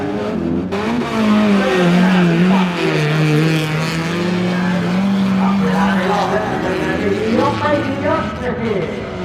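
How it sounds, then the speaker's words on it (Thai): A Toyota race car corners fast on a race track, its engine roaring loud and steady throughout with shifting pitch, under a commentator's continuous talk. "มาดูการเข้าโค้งของเบอร์เจ็ดที่เจ็ดนะครับรถตีครับ เร็วเลยทีเดียวครับ"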